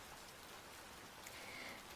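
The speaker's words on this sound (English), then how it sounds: "It's still raining a little bit." Light rain falls in a faint, even patter with a soft hiss, quiet and continuous throughout, with no one speaking.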